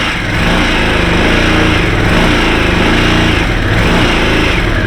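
A 2023 Harley-Davidson Sportster S with a 1250cc engine runs steadily at idle, a loud, close, continuous rumble with a slight pulsing throb and no talking.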